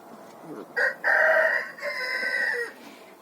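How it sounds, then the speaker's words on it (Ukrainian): Naked neck roosters crow loudly in a village farmyard among chickens, with a couple of close, drawn-out cock-a-doodle-doo calls over about three seconds. "тут у нас два таких гарненьких півника е, голошиї"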